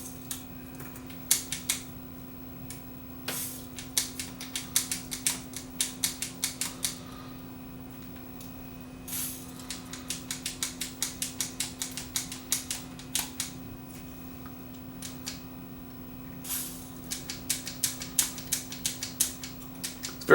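Quick bursts of sharp mechanical clicks and clacks, switches on an Akai 4000 reel-to-reel tape deck flicked repeatedly during cleaning, over a steady low hum, fairly close and moderately quiet.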